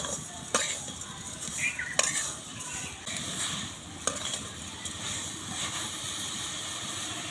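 Grated coconut and sugar are stirred in a wok for a sweet filling, giving a soft continuous sizzle broken by a few sharp metal clinks of the spatula against the pan, with no talk.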